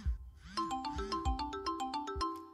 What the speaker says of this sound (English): we got a phone ringing.